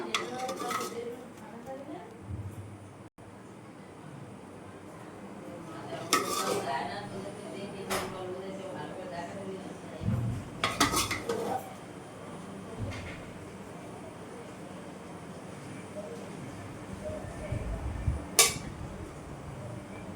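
Metal spoon scraping and clinking against a plate and pot as home-cooked chicken biryani is served, with scattered sharp clinks over a quiet room; a voice talks intermittently.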